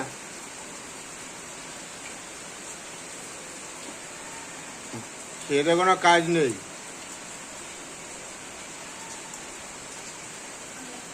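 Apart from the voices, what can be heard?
pattering rain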